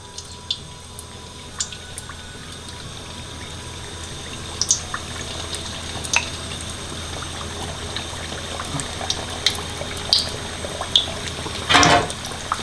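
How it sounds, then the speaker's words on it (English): Karela (bitter gourd) pieces dropped into hot oil, giving a soft steady sizzle with scattered pops and crackles that swell into a louder bubbling burst near the end. "I'll do 4 at a time, and you just put it in the hot oil."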